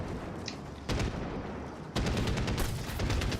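Single shots from a firearm in the military shooter Medal of Honor Warfighter, a couple of sharp loud reports in quick succession over steady background game ambience.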